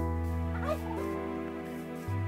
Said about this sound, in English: Turkey, I want your blood.